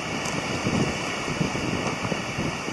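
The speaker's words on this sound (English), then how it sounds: "It is very windy." Strong wind roars steadily against the microphone at a winter campsite, a constant broadband rush with occasional gusty swells and no voices.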